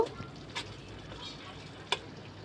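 A spicy Chittagong-style loitta fish bhuna with tomatoes and green chillies is stirred in a pan over a low, steady sizzle, with two brief scraping clicks from the spoon.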